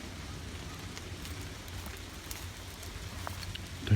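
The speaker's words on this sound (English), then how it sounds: "see where it's raining?" Rain falls steadily in the woods, a soft, even patter spread across the whole stretch, faint and continuous with scattered drips and no voices.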